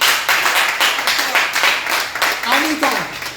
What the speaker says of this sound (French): On se lève, on acclame l'enseignement